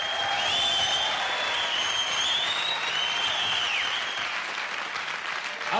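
A 1977 concert crowd applauds the keyboardist, sustained, dense clapping with scattered whistles and cheers rising above it, fairly loud and easing slightly toward the end.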